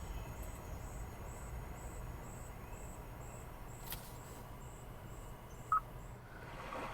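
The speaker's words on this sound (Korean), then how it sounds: "이게 생기 넘치는 숲입니다" Quiet woodland ambience played back as a built-in nature sound in a Kia K7 Premier Hybrid, with a steady bed of insect chirping and faint birdsong, continuous and low in level, with no voices.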